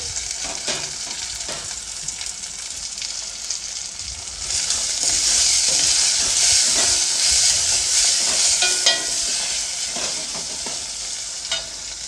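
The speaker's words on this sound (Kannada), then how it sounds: "ಈರುಳ್ಳಿ ಫ್ರೈ ಆದಮೇಲೆ ನಾನು ಒಂದು ಮೀಡಿಯಮ್ ಸೈಜು ಟೊಮೊಟೊನ ಹೆಚ್ಚಿಟ್ಕೊಂಡಿದ್ದೆ ಟೊಮೊಟೊ ಹಾಕ್ಕೊಳ್ತಾ ಇದ್ದೀನಿ" Chopped medium-size tomato tipped into fried onions in a pan for an avarekalu (field bean) sambar, the sizzle jumping louder and steadier midway and holding as a continuous close hiss with faint stirring scrapes.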